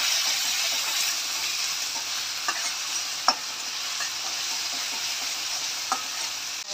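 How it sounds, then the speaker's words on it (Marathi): Spice paste frying with black-eyed peas in a pan, a steady close sizzle with occasional stirring clicks and taps throughout, no voices. "आपण जी पेस्ट तयार केलेली त्याच्यामध्ये घालूया, हे चांगलं फ्राय करून घेऊया।"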